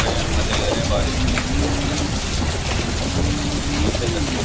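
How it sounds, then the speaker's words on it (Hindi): Heavy rain pouring down in a steady, loud wash of noise, with a faint tonal hum running underneath and no clear speech. "खूब अच्छी बारिश हो रही है, तगड़ी बारिश"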